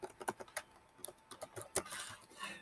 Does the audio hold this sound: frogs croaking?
no